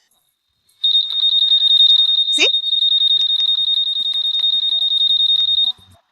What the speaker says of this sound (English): Here's an example. The alarm is already on.